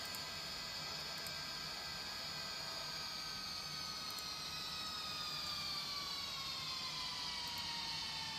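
A Vietnam Airlines A320neo takes off in Real Flight Simulator, its jet engines giving a faint, steady whine with slowly falling tones over a soft roar, alone without voices.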